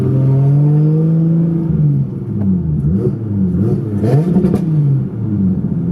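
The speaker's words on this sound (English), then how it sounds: "you'll hear the straight pipe resonate off of everything, like these cars and stuff" A car's loud straight-pipe exhaust revs up and down close by, the engine note rising and falling in several throaty pulls.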